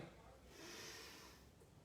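A single deep breath drawn in during a low-impact strength exercise, a close, airy inhale that swells and fades over about a second.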